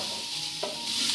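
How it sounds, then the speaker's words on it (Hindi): Cabbage and mixed vegetables being stir-fried for spring rolls, a steady near sizzle with a brief scrape of stirring partway through. "अच्छे से फ्राई करते हैं इसको 2 मिनट"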